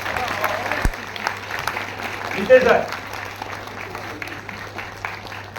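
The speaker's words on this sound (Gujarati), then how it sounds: "અમને તાળી પાડો" An audience claps at a community film screening in Patan, a moderate spread of hand claps running through the clip beneath someone speaking nearby.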